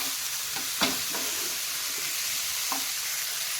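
Corn snack mixture stirred in a pan over a high gas flame, with a steady sizzle of frying under a few scraping strokes of a spoon, close and moderately loud, no talking.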